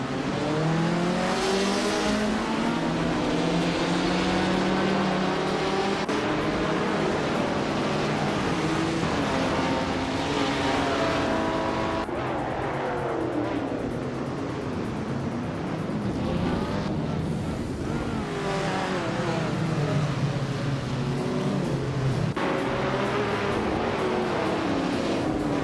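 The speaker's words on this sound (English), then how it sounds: "the race has just kicked off at Gold Coast, and leading the pack is Nuts in a classic 1977 Lancia Strato" A classic 1977 Lancia Stratos and rival race cars roar around the Gold Coast circuit in a video game, engines droning and rising and falling in pitch continuously and loudly, with shifts and passing sweeps.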